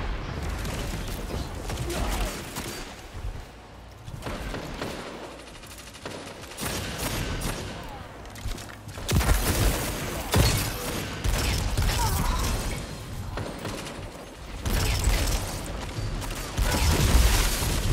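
Sunshot hand cannon blasts and fiery explosions in the Destiny video game, repeated sharp booms and bursts of gunfire over mechanical clatter, loud and dense throughout.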